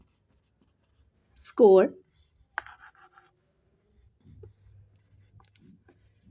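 A pen scratches on paper in short, faint strokes while a teacher talks through an integers exercise in a Class 7 maths lesson.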